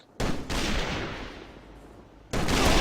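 Gunfire in the online shooter AVA during a 3v3 competitive match, loud bursts of broadband firing that sustain for about two seconds, a brief break, then another burst at the end; no talk.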